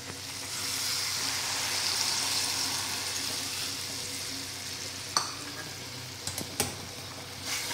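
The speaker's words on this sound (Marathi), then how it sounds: "आता याच्यात एक वाटीभर जे मी इथं उकळून घेतलेलं पाणी आहे ते टाकूया" Hot water poured into a pan of spiced turmeric oil for zunka gives a steady, loud sizzling hiss that fills the whole clip, with a few sharper splutters and crackles near the end.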